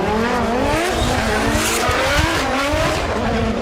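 Drift cars at Formula DRIFT Japan launching into a tandem run, engines roaring at high revs with rising pitch sweeps and tire squeal, loud and sustained.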